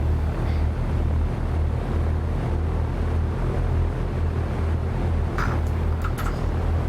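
Simulated light aircraft engine in X-Plane 11 idling at about 1000 RPM, a steady low droning hum with constant loudness throughout, with faint clicks near the end.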